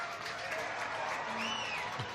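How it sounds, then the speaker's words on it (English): Crowd at a rugby match in the RBS National Bowl Final, Highland versus Glenrothes, applauding and cheering as a substituted player leaves the field, a steady, fairly even wash of clapping and voices throughout. "Warmly applauded and cheered"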